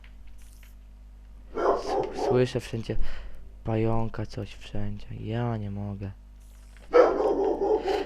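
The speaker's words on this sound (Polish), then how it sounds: "On jeszcze szczeka" A dog barks indoors in a few short bursts, one early and one near the end. Someone talks in between and over the barking.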